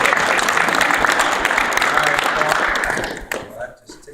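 A small meeting audience claps together in a dense, steady burst of applause that fades out toward the end, leaving a few scattered claps.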